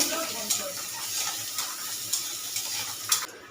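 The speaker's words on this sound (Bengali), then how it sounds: "একটু লাল লাল করে ভেজে নেব" Chopped onion frying in a little oil in a wok, with a continuous sizzle broken by a few sharp clinks of a spatula against the metal, heard close.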